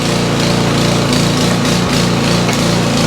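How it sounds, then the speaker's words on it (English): An old hydraulic log splitter, roughly 25 to 30 years old and on the slow side, runs steadily and loudly on its engine, a continuous droning hum with no pauses and no one talking over it. "So this log splitter I'm using is approximately, I'd say 25 to 30 years old. Slower hydraulic, but it does the trick."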